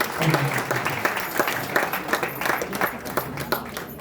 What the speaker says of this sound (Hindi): एक बार जोरदार तालियां बजाकर स्वागत करें।